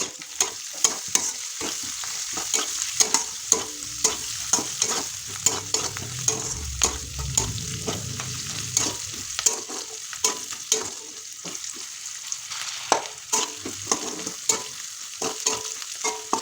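Onions fry in a pan with a steady sizzle under frequent sharp clicks and scrapes of a spoon stirring, close and fairly quiet.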